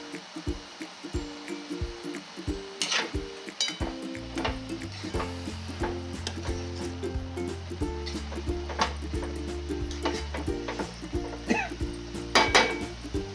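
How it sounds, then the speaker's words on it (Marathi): Spring onion greens cook uncovered on a low gas flame with a quiet, steady sizzle, joined by intermittent clinks of a utensil against the pan and a sustained tonal hum underneath. "न झाकता बारीक गॅसवर अशी पात चांगली शिजू द्यायची"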